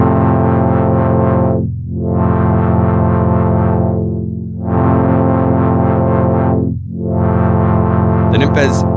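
Dreadbox Nymphes synthesizer on a gritty Juno-style patch plays loud, sustained chords that swell and fade in repeated long cycles, with a brief higher flutter near the end.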